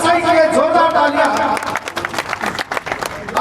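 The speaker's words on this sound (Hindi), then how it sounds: "जोरदार तालियां" A crowd at a political speech bursts into applause, a dense wash of clapping with voices mixed in that thins out toward the end.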